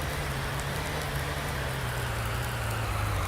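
Steady rain falls in Farming Simulator 19, a constant even hiss of drops spread across the highs with a low rumble underneath, loud and unbroken throughout, with no voices.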